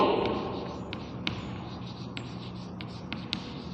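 Chalk taps and scratches across a classroom board as maths is written, a series of short light strokes at an uneven pace, close and quiet over faint room noise.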